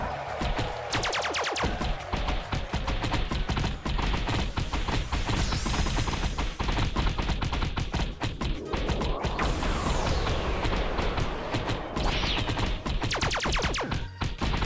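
Gallic Gun energy attack in a Dragon Ball Minecraft game, a loud dense barrage of rapid crackling blasts and impacts lasting throughout, with whooshing swells and bursts layered on top.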